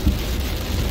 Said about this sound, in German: Also der Regen wird wieder sehr stark.